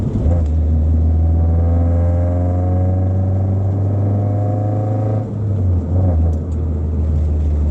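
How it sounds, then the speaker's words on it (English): A Nissan S14's naturally aspirated exhaust drones in a low, steady rumble after a downshift, its pitch shifting briefly as the engine note drops and then carries on. "Feel and enjoy a little bit of the exhaust sound"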